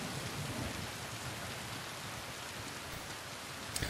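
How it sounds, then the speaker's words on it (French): Steady rain falls in a TV episode of The Walking Dead, a dense continuous hiss of drops on surfaces throughout, with no voices. "je veux de l'eau, pourvu qu'il pleuve, il pleut"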